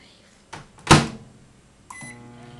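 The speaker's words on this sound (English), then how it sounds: "We will be making it out of a microwave." A microwave door clunks and buttons click, then a steady electronic tone sounds as the oven starts humming while cooking a waffle, close and moderately loud.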